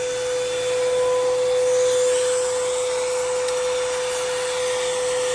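Second-hand vacuum cleaner from Goodwill running with no suction, a steady loud motor whine with a strong constant tone and airy hiss, unchanging throughout.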